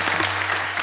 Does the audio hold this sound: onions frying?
no